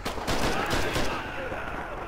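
Dense, continuous gunfire from the World War II shooter Red Orchestra 2, rapid overlapping shots and distant rattles forming a loud, unbroken battlefield roar.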